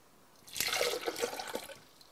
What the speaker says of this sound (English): you take 1 cup of water, stick it in a blender